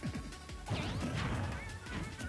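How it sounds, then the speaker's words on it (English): Several sharp smash hits from forward smash attacks land in a competitive fighting video game match. The crunchy impacts come in rapid succession and are mixed with whooshing effect sweeps and game sounds. "just going up into these forward smashes every time"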